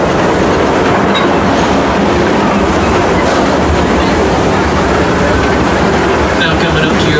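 A Six Flags railroad train rumbles loudly along its tracks with a steady, dense clatter and roar of wheels, continuous and close, with a faint voice somewhere in the din.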